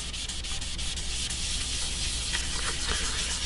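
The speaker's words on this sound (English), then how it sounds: "we'll begin by rubbing this in" A cloth rubs turquoise stain into wood sanded to 320 grit, making a steady, close, even scrubbing hiss throughout with no speech.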